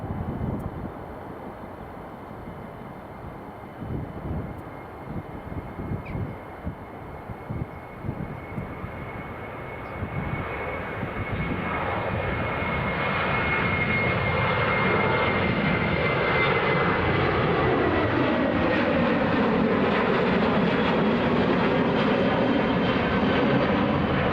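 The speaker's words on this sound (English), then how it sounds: "Here goes the KLM. These won't be around for much longer." A KLM Boeing 737-700 jet passes outside, its engine roar building from a distant rumble into a loud, sustained whine and rush that swells and shifts in pitch as it goes by.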